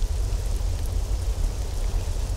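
Steady rain pours in the 2008 video game Alone in the Dark, a dense continuous hiss with a deep rumbling low end, loud and even throughout with no voices.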